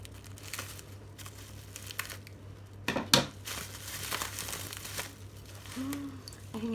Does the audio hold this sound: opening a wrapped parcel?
yes